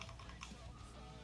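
Fire button on a Smok G-Priv vape mod clicked several times in quick succession, small close taps with no talking.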